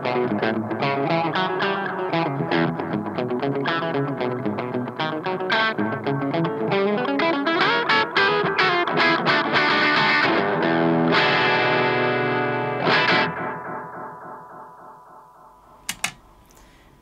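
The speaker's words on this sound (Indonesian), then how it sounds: "Sekarang coba delay. Coba ini cocok buat buat rockabilly gitu teman-teman." Rockabilly-style electric guitar played through the delay effect of a NUX Cerberus multi-effects pedal, with quick picked notes repeating in slapback echoes, then a ringing chord that decays, ending with a couple of clicks.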